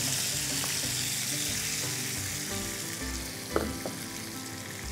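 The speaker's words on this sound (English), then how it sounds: "Now to this, let's add chopped onions" Chopped onions fry in butter and oil with a steady, close, bright sizzle that runs unbroken throughout, marked by a single faint clink partway through.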